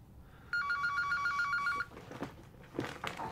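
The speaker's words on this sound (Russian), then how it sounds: "Алло, Эдик." A telephone rings with a bright electronic trill lasting just over a second, followed by quieter rustling and movement in an indoor scene.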